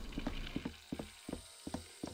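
A small motorized toy train in the game Reveil rattles along in a quiet room, a faint series of evenly spaced clicking, ratcheting taps of plastic and wood, about seven ticks with no talk.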